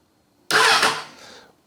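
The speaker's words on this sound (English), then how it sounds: "If I now press and hold the starter, it should try and start the engine" A Suzuki Bandit cafe racer motorcycle's starter cranks the engine in one short, loud burst of about a second that cuts in abruptly and fades without the engine catching.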